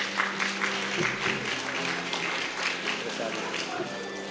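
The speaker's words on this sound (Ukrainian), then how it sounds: "Аплодуємо усій тепер родині." Applause for a family at a concert, a dense, steady crowd clapping that carries through the whole stretch with talk mixed in.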